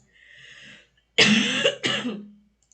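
A close, forceful cough in two harsh bursts, preceded by a softer throaty breath.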